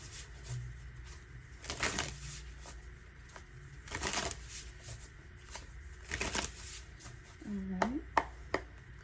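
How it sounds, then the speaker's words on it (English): Tarot cards being shuffled and pulled during a card reading, several brisk riffling bursts close by with soft handling and rubbing between them, a voice briefly heard. "I'm gonna pull the last cards."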